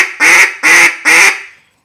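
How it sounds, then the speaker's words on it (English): Three loud, raspy duck-call quacks in an even sequence, each drawn out briefly, the last one trailing off. "It's a very raspy call."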